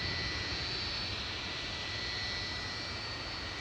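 A 36-year-old Boeing 757 jet without winglets takes off at Manchester Airport, its engines a loud, sustained roar with a high whine, constant and unbroken throughout.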